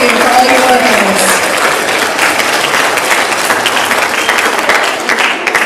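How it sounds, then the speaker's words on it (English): A school-district audience at a Hispanic Heritage Month presentation gives a sustained round of applause, broad and continuous clapping from a large crowd with some voices mixed in underneath. "please give a nice round of applause to Mrs. Wendy Palladino and Mrs. Colleen O'Troish"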